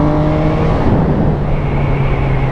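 MV Agusta Brutal 675 motorcycle with an A2 power restriction, its engine held at the 8000 rpm rev limiter, a loud steady bouncing drone that stays close for the whole short stretch.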